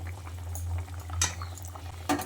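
Potatoes simmering in a pot of curry for an ilish fish jhol, a low steady bubbling hum broken by a couple of sharp metallic clinks of utensil against pot.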